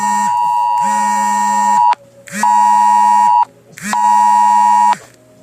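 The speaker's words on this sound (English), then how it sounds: "That was the emergency alert alarm." An emergency alert alarm sounds in three loud, steady electronic buzzer tones, each about a second or more long and separated by short gaps, close and alone.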